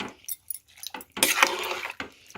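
A spoon stirs spinach dal (palakura pappu) ingredients in a pressure cooker, giving irregular close metallic clinks and scrapes, with a denser rattling burst in the middle.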